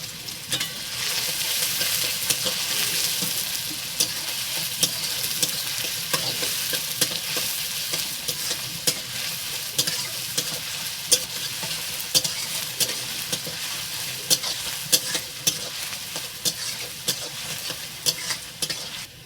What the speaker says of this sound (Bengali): এরপরে দেবো পেঁয়াজ পেঁয়াজটা লাল লাল করে ভেজে নেবো